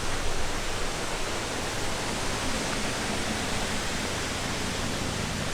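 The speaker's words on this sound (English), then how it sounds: "there's the falls just in front of us" Waterfall in Queensland by a dam-like ledge, a steady broadband roar of falling water, close and constant throughout.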